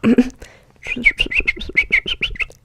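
A person imitates a bird call, giving a brief vocal sound and then a quick run of about a dozen rhythmic, high chirping whistles, close and fairly loud.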